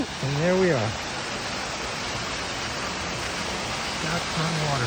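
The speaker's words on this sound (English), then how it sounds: "Scotch Run waterfall. How beautiful." Scott's Run waterfall in McLean, Virginia, gives a steady, broad rush of falling water. A voice speaks briefly over it at the start.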